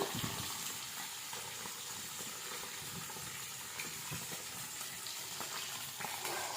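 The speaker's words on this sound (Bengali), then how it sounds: "মাছটা ভেজে নিই ভালো করে" Fish frying in hot oil on a wood-fired stove gives a steady, dense sizzle with a soft crackle running through it. It carries on without a break at a moderate, fairly close level, and nobody speaks.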